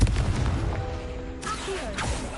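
Confringo blasting curse in Hogwarts Legacy, heard as a loud deep boom at the start that fades into a rumble, followed by brighter whooshing and ringing magical effects.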